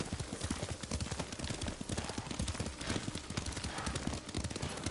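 Steady clip-clop of horse hooves at a brisk trot in the video game Ghost of Tsushima, over a constant background wash, the rhythmic hoofbeats continuing evenly throughout.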